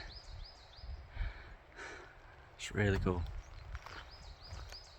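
A small bird tweets in a forest, giving a few short, high, repeated chirps in two brief bursts beneath a person talking nearby.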